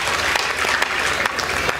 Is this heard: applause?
yes